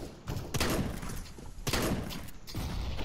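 Counter-Strike-style video game gunfire comes as two loud, close bursts of rapid shots, each followed by a decaying rumble.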